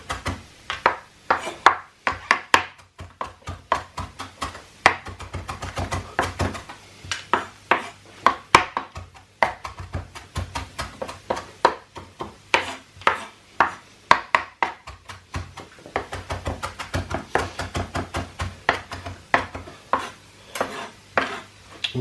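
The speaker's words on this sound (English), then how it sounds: "We're just going to chop this very" Onions chopped finely with a knife on a wooden board, a steady run of sharp, close taps in quick bursts with brief pauses between.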